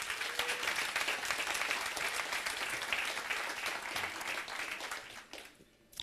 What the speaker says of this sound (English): please give yourselves a very big round of applause for being here